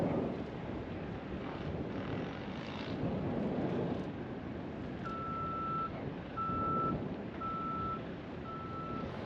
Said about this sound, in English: You can see the piece of machinery down there that's making the beep.